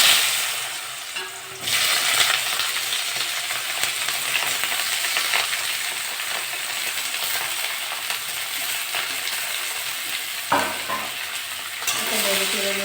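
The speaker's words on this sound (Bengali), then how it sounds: "তেলটা গরম হয়ে গেছে। উচ্ছে আর আলুটা দিয়ে দেবো।" Bitter gourd and potato slices fry in hot mustard oil, a loud dense sizzle with a sharp burst as they go in and stirring scrapes mixed through.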